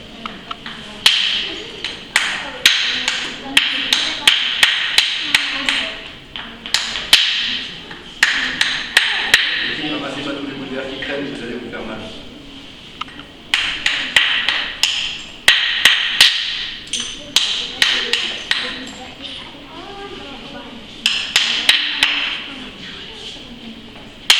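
Flint is knapped with a stone hammer in a prehistory museum demonstration: repeated sharp, close cracking strikes come in irregular bursts, with quieter scraping between them and some faint talk.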